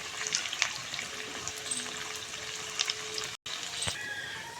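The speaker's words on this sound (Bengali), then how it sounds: "আর নেড়ে চেড়ে খুব ভালো করে ডিপ ফ্রাই করে ভেজে নেবো" Pieces of semolina barfi deep frying in a pan of oil, heard as a soft, steady bubbling sizzle with scattered crackles and brief clinks, close and fairly quiet, with a short dropout near the end.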